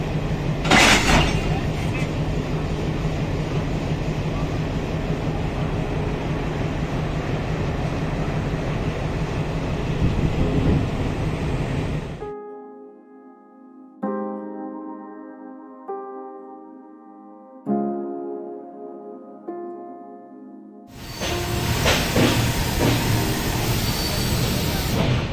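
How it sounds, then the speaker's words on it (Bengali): Rumbling train noise at Visakhapatnam station as the Howrah–SMVT Bengaluru SF Express (12863) pulls out after an engine change; steady loud roar, a quieter tonal musical stretch in the middle, then the roar returns, with voices mixed in. "ট্রেন আমাদের ছেড়ে দিয়েছে"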